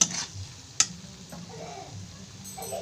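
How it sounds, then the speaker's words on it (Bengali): Pasta is stirred and fried with sauce in a pan over a low gas flame. A soft, quiet sizzle runs under a sharp utensil clack and a few light scraping stirs. "এটাকে একটু ভালো করে মাখিয়ে নেবো, ভেজে নেবো এটার সাথে দিয়ে"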